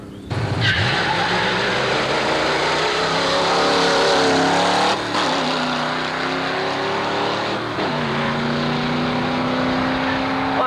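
A 1964 Chevelle SS with a 327 V8 roars through a solo drag racing pass at Carlsbad Raceway, loud and continuous, engine pitch climbing through gear changes around five and eight seconds in.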